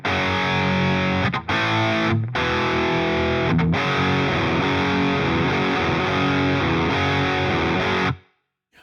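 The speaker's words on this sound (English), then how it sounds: "So you're just hearing the amp on that side" Dry left-side amp of a stereo guitar rig, a heavily distorted electric guitar playing dense chords with a few brief stops, loud and close with no voices, then cutting off abruptly at the end.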